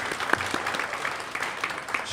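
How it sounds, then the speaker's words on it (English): A real estate seminar audience claps with scattered hands and a whoop, a fairly faint, brief burst of applause from the room. "let's give her a round of applause"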